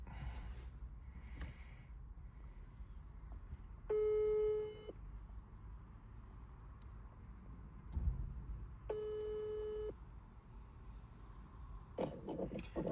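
A telephone ringback tone sounds while a call to a friend is placed: two steady electronic tone bursts about five seconds apart, each roughly a second long, over faint room noise.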